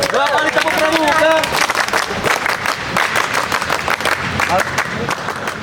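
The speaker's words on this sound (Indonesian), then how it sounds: "Oke, tepuk tangan. 2 kali tepuk pramuka." A group at a Karang Pamitran scout (Pramuka) gathering in Bandung claps together in a rhythmic pattern, a quick series of sharp, fairly close claps. Voices chant and call out over the clapping.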